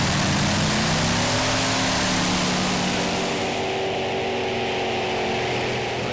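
A pulling tractor's engine roars through a run at the 2015 Eurocup tractor pull in Brande, Denmark. The sound is a loud, continuous, broadband roar with a slowly shifting tone that eases slightly toward the end.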